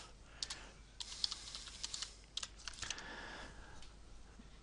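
Quiet, rapid keystrokes from a computer keyboard while a spreadsheet formula is typed, an uneven burst of close clicks with short pauses and no voice.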